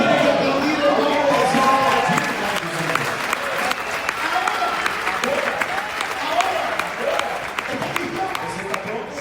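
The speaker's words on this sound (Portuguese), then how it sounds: "Alguien tiene que aplaudir, hermano." Sustained applause from a church congregation during a bilingual sermon by an apostle from Argentina, dense steady clapping with crowd noise, loud and continuous throughout.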